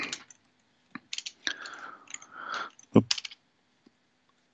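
Computer keyboard keys clatter in sparse, irregular bursts of clicks and taps, with brief gaps between them, close and fairly quiet.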